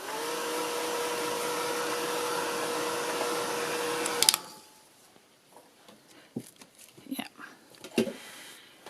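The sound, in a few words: drying paint on a postcard with a dryer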